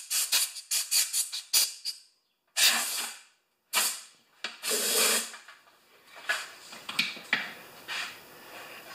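Compressed air blasts into the carburetor of an older Toro lawn mower: a string of short sharp hisses, then longer loud bursts with brief silent gaps, close by, with no talking.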